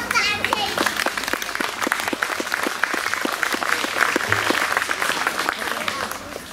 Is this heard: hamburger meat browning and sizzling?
no